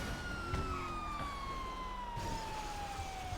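A police car siren wails in a GTA roleplay game, a steady sweeping tone that slowly falls in pitch, heard faintly in the distance over low background noise.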